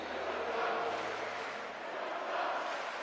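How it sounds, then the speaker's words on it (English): A home crowd roars with sustained cheering at an under-20 water polo quarterfinal between Croatia and Greece, a broad, loud wash of voices that swells and holds for several seconds. "The home crowd is erupting now."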